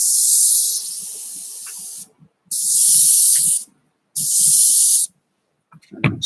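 Airbrush spraying paint on an Airfix 1/24 Spitfire Mk Vb model, three loud steady hissing bursts of about one to two seconds each separated by short pauses, close up with faint handling clicks.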